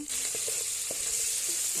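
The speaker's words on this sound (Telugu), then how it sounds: "ఆనియన్స్ మిర్చి వేసి బాగా ఫ్రై చేసుకోవాలి" Onions and chillies sizzle loudly in hot oil in a biryani pot, a dense continuous hiss with a few soft knocks from stirring.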